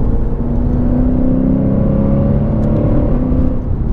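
A Lexus RC F's deep, throaty Armytrix header-back exhaust drones steadily, heard muffled from inside the closed cabin with windows up, loud and continuous with a slight rise in pitch.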